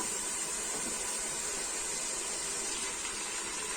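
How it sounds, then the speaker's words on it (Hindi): Chicken fries in a pot with a steady, loud, unbroken sizzle and hiss that holds at one level for the whole stretch, with no voices. "तो ये है जी हमारा बन रहा फ्राई हो रहा है चिकन"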